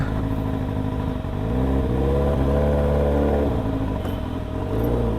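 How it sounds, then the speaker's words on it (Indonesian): A big motorcycle engine idles loudly up close, its pitch rising and falling through a few revs, with a steady throbbing rumble throughout. "berisik banget motor gue men"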